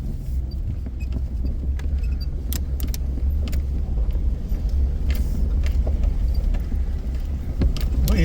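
A 1990 Ford Bronco II crawls off-road in four-wheel-drive low range, a low steady engine and drivetrain rumble from inside the cab with scattered rattles and knocks over it.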